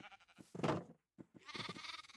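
Sheep bleating in a TerraFirmaCraft Minecraft modpack: two bursts of wavering animal calls separated by a short silence, fairly faint and close, with no talk.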